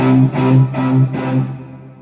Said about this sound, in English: Compared to this is just a normal C bar chord.